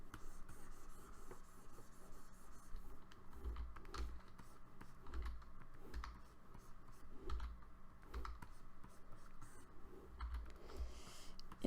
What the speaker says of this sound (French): Et pendant tout ce temps, j'utilise les raccourcis clavier.